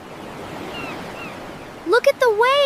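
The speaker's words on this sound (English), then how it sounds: "Look at the waves." Ocean waves wash steadily onto a beach in a broad, even surf roar, and a voice breaks in near the end.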